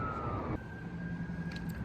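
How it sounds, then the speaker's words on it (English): Distant police sirens wail steadily as they pass, the tone shifting pitch partway through, heard faintly over low background rumble with no talking. "The sirens. Sorry about the sirens."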